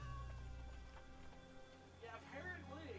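A kitty in a video game set in Japan gives a few soft, rising-and-falling meows near the end, faint under low talk from a person.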